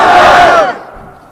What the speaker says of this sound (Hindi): अब नारा लगाओ आप